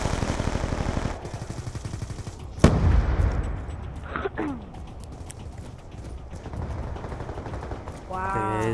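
Rapid automatic gunfire in the multiplayer shooter game Black Ops 2, bursts of shots with a sharp loud report near the middle, mixed under game noise and a player's voice.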